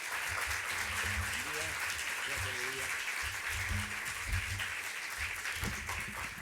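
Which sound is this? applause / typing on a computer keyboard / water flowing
applause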